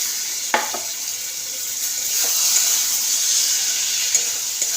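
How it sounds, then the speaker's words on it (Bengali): Chopped tomatoes hit hot oil and frying masala, setting off a loud, continuous sizzle with a few spoon-and-pan clatters from stirring. "তো এইবারে আমি দুটো টমেটো কেটেছিলাম, সেটাও দিয়ে দিলাম।"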